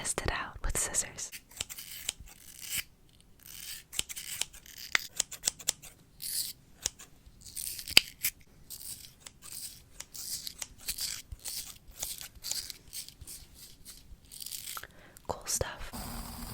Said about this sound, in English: I have to test it out with scissors.